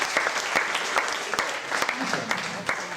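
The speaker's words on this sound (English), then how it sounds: "how about a big round of applause for the star of the show?" A crowd at a high school senior all-nighter hypnosis show gives a volunteer a round of applause, dense clapping and cheering throughout with a voice briefly audible underneath.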